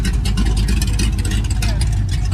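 A Dodge Charger muscle car engine rumbles loudly at a car show, its deep idle and revs dominating throughout while people talk nearby.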